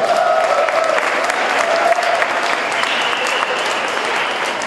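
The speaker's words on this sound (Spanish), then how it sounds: "Un aplauso." Audience applause at a classic rock festival in a theatre, dense sustained clapping from a crowd, steady and fairly loud throughout.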